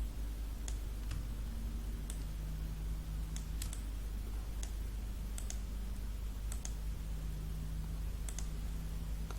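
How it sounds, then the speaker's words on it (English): Computer mouse clicks while working in Scratch Desktop, a dozen or so sharp, close clicks at an irregular pace over a low steady hum, with no talking. "I'm clicking this one just to compare the size."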